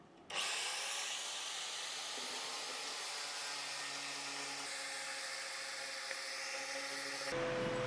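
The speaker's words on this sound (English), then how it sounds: "we need to go over with our stainless wire wheel, wherever that is, that one down there, and buzz all of these welds out" A stainless wire wheel on a power tool buffs out welds on an aluminium dinghy, a steady loud whirring grind with a few tonal shifts as it bites into the metal, then a louder burst near the end.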